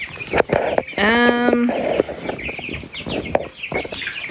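A flock of meat chickens in a shavings-lined pen under a heat lamp clucks and squawks close by, with one loud drawn-out call amid overlapping chatter and some background talk.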